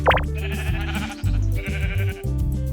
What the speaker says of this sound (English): found some sheep on some land not too far away